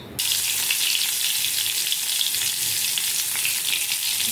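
Crushed fennel seeds hitting hot oil in a pan, a sudden loud sizzle that starts abruptly and continues as a dense, even crackle at close range, with no talking.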